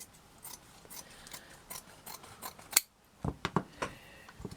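Scissors snip and crunch quietly and close up while trimming paper or card for handmade Christmas tree baubles, a run of soft cuts followed by a few sharper clicks of the blades.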